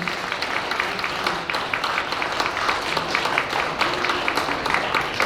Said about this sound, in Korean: 각자의 통찰을 나누어 주신 네 분 선생님께 힘찬 박수 부탁드립니다